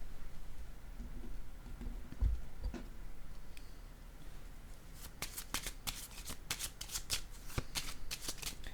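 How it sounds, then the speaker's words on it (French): Tarot cards shuffled, slid and laid down on a table at close range, a few soft taps early on, then a long run of crisp riffling flicks, quiet and steady, with no voice over them. "Je vais déposer une autre carte ici."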